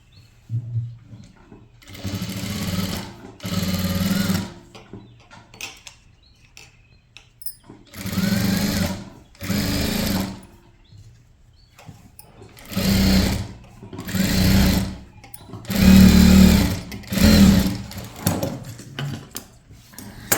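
A sewing machine stitches the lining onto the right side of a maxi dress bodice in short bursts, about seven runs separated by pauses, close and fairly loud with faint handling noise between them.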